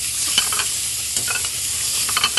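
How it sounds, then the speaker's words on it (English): Shrimp and scallops sauté in a hot pan, a steady loud sizzle running throughout, with light stirring scrapes scattered across it, close up and with no voices. "So actually now we're going to add the shrimp now."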